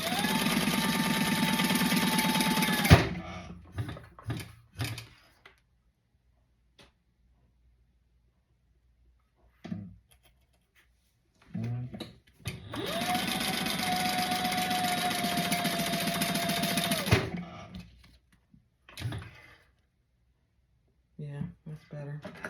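A sewing machine stitches in two long, loud, steady runs of fast whirring after its bobbin tension is tightened. Short clicks and handling noises follow each run, separated by stretches of near silence.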